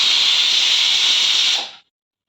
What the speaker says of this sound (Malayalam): ആവിയൊക്കെ പോയതിന് ശേഷം കുക്കർ തുറക്കാം